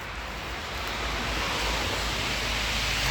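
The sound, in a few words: small forest creek flowing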